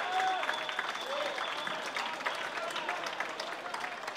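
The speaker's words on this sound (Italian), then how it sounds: "Gli applausi per Momberg e Boggiani." A rugby crowd applauds as players enter the field at a match between Rovigo Delta and Lyons Piacenza, with steady clapping heard beneath an announcer talking over it.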